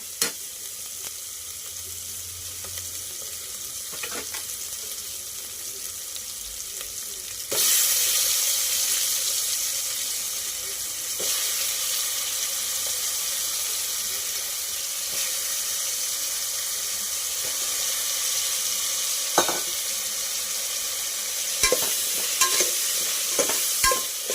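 Potatoes frying in a pan for a broad bean curry sizzle steadily while a spoon stirs them, with a louder burst of frying partway through and occasional scraping knocks near the end.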